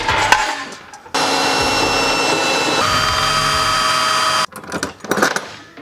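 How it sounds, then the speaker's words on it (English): Electric drill boring through a mounting plate on a Jeep TJ during a fuel tank installation, a sustained loud whine whose pitch shifts midway, framed by clattering handling noises before and after. "drill it from underneath, come up top"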